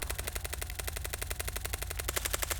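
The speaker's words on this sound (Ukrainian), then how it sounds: "На що ти стріляєш?" Rapid automatic gunfire from a video game, a steady stream of evenly spaced shots running throughout at constant loudness with no talk over it.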